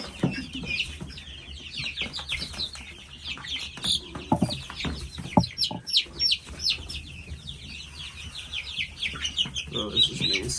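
Red Star chicks and roosters, moved from a brooder into a coop, cluck and cheep continuously, with dense high peeping and scattered louder clucks close by.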